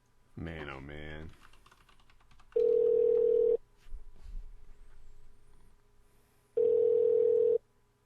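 Long steady phone ringback tones sound twice, each about a second long with silence between, while a call to the other person goes unanswered; a short burst of speech and keyboard typing come before them.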